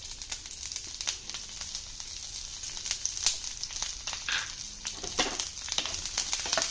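Green chillies frying in hot coconut oil for a ladies finger masala, a steady close sizzle with soft crackles and a few brief stirring scrapes, continuous throughout with no talking.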